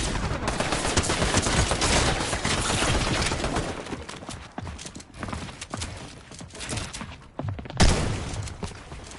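Fortnite gunshots crackle through a busy, loud stretch of rapid firing and impacts, thinning out midway before a sharp burst near the end, with no voices heard.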